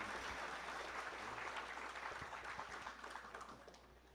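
Church audience applauding to welcome a guest speaker, dense crowd clapping that fades gradually toward the end, no talking.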